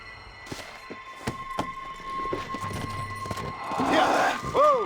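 Horse hooves clip-clop in the Red Dead Redemption: Undead Nightmare video game, a few scattered thuds under ongoing talk and game sounds, with a louder swell near the end.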